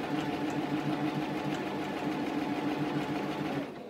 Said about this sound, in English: now to my sewing machine. I've just got it on a straight stitch.